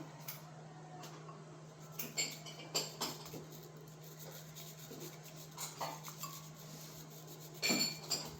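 Utensils faintly clink and tap against a cup or bowl while matcha is stirred, irregular and quiet over a low steady hum.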